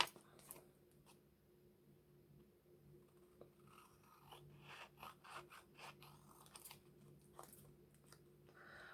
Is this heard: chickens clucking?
no